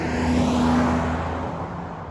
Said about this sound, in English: we will actually take off hard at this light